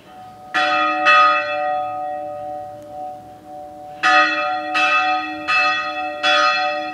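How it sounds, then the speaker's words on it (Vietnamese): A church bell at the Đáp Cầu church in Vietnam rings with six resonant strikes: two early tolls, a pause, then four in steady succession, each with a long, humming decay. It sounds loud and fairly near, with no talking. "Chuông nhà thờ đấy mọi người."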